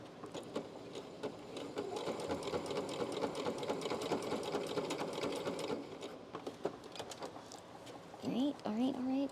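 A sewing machine stitches a cosplay piece in a steady, fast whirring run for about six seconds, then stops with scattered clicks and handling noises while a person talks nearby.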